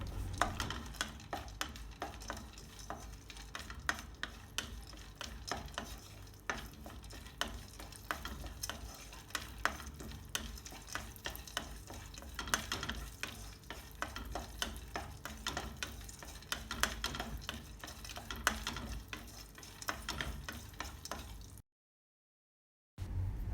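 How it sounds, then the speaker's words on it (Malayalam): Steady sizzling and crackling of cashews and raisins frying in a hot pan, with occasional stirring scrapes, continuous and close, no voices. "ഇനി ഇതിലേക്ക് നട്ട്സുകൾ ഓരോന്നിട്ട് നന്നായിട്ടൊന്ന് വറുത്തെടുക്കാം"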